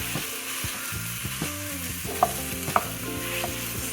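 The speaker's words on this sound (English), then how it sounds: "And with your sausage, you're going to break it up and" Sausage meat browning in a pan while being broken up, with a steady low sizzle, scraping and stirring throughout and two sharp utensil clinks near the end, recorded close with no talking.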